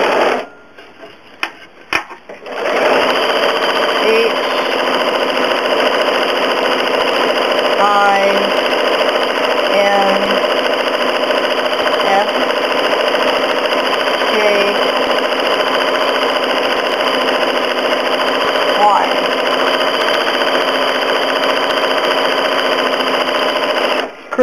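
A home sewing machine runs steadily while free-motion quilting curly-Q star stitch patterns, a loud continuous motor whir with rapid needle clatter that starts after a brief pause and carries on alone for over twenty seconds.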